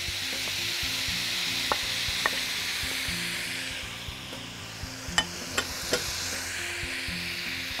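Meat dropped onto frying onions in a pan, a continuous close hiss and sizzle with a few sharp crackles and pops near the end, with no voices.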